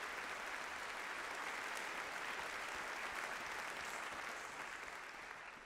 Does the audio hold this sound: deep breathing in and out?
no